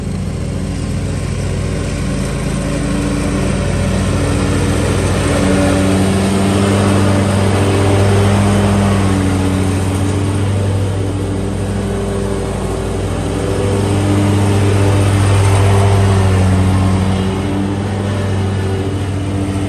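A Ferris riding lawn mower with about 1,200 to 1,300 hours on it, making a couple of little rattling noises, runs steadily and loudly close by on a cold day, with a continuous droning engine note that rises and falls slightly.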